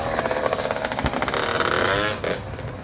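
A small SYX-R 50 motorcycle's 50cc engine runs close by with a steady buzzing drone and slight revving, easing off near the end.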